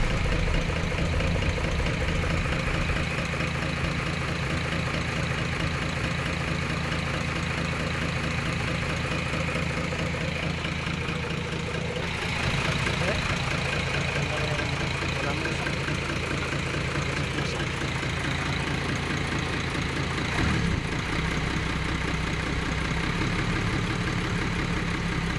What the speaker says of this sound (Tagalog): ang ganda ng andar ng ginawa guys, basta nasa tamang timing yung injection pump